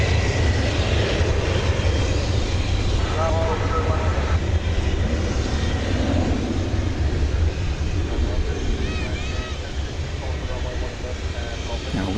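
An airplane on approach to the runway at DFW Airport, a loud continuous engine roar that stays steady throughout and eases slightly near the end, with voices faintly under it.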